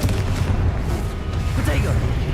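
A Confringo spell blast in Hogwarts Legacy booms with a deep, rumbling burst that rolls on for a couple of seconds, loud and near, with a player voice talking over it.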